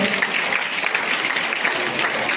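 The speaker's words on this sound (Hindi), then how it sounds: "आपकी तालियां इन बच्चों को हौसला देगी।" Audience applause at a school event in India, a dense steady wash of many hands clapping at once for the prize-winning students, continuous and fairly loud for the whole moment.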